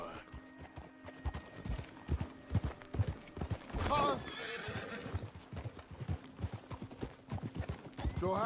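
A horse in Red Dead Redemption 2 clip-clops at a steady walking rhythm, hooves close and clear, with a loud whinny midway and faint gear jingle underneath.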